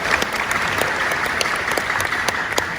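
An audience at a university public lecture in Gorontalo claps steadily for the rector, a dense, even applause that holds throughout.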